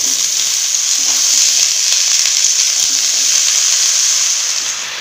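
Chopped bottle gourd greens, eggplant, potato and beans fry with onions in a hot pan, a loud, steady sizzle running close and unbroken with faint stirring scrapes and no talking.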